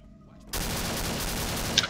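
Sustained automatic gunfire in Left 4 Dead starts abruptly after a quiet moment, a loud, continuous rattle of rapid shots close by.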